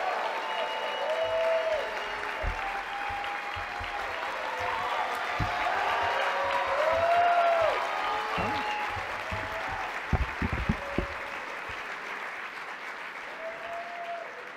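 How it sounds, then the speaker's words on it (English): Sustained audience applause for Monet at the SMYAL Fall Brunch, a dense crowd of clapping hands running steadily for the full stretch with a few louder claps near the end and faint voices mixed in. "can we give Monet a round of applause right here?"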